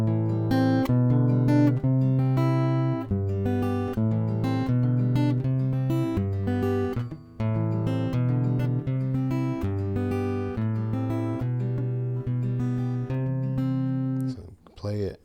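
A 5-6-7-1 chord progression rising in order on a sustained keyboard-like instrument, full chords changing about every beat with a short break midway, played alone.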